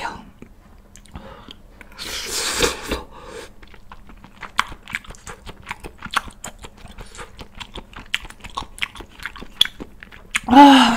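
Close-up chewing of fiery spicy chicken stew with clumped Chinese glass noodles: a run of wet bites, squelches and soft crunches in an irregular rhythm, with a brief breathy vocal sound near the end.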